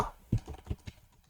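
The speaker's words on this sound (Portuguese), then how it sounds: "a batida aqui no teclado" Typing on a computer keyboard, a few quiet, close key taps in an irregular rhythm over a faint background.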